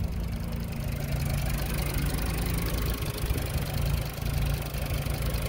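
A 2019 Volkswagen Jetta SEL engine idles smoothly and steadily, a constant low mechanical hum heard up close with no talking over it.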